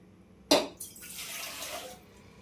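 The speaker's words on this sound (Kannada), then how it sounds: "ಇದಕ್ಕೆ ನೀರು ಹಾಕ್ತೀನಿ." Water is poured into a cooking pot for boiling cut potatoes, beginning with a sharp splash and then settling into a steady, close gush that fades out after about a second and a half.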